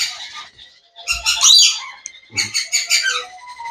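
Yellow ringneck parakeets chirp in rapid, bright bursts of high squawky calls, close and loud, with a short pause before another busy flurry.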